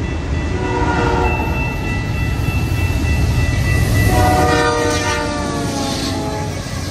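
Freight train with two locomotives rolling past, a loud continuous rumble of wheels and railcars with a sustained horn blast in the middle, close and steady.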